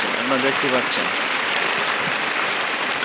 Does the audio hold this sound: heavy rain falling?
yes